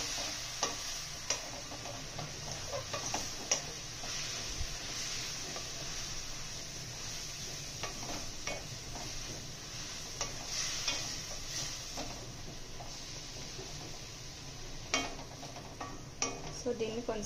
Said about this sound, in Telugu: సో దీన్ని కొంతసేపు మెంతి కూర ఫ్రై అయిపోవాలి.